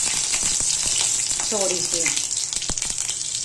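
Mustard seeds splutter and crackle in hot oil in a pan, a dense close sizzle broken by sharp pops throughout, with a brief voice in the middle.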